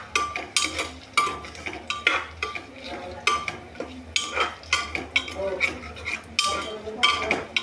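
Roasted peanuts are stirred into spiced masale bhat in a pan, with a spoon repeatedly scraping and clinking against the metal in a steady rhythm; faint talk in the background.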